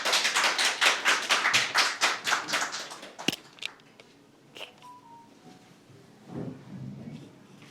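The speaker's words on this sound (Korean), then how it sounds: "박수로 모시겠습니다." Audience applause at a Jeju policy seminar, rapid claps for about three seconds, then a single sharp clap and a quieter room with scattered small noises.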